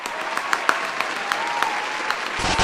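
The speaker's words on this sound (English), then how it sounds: "so big clap for Jax." A brief, steady burst of clapping for a young pupil in a school performing arts setting, continuous and fairly close, with a few sharper individual claps standing out.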